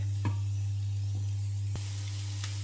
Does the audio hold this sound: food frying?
yes